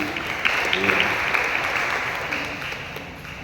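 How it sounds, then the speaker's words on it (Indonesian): Steady applause from an audience at a cultural talk on Binongko Island, a dense wash of clapping that holds evenly and tapers slightly toward the end. "tepuk tangan dulu untuk semua generasi ke depan ini"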